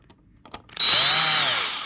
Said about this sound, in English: I'm going to lazy up here and grab my drill,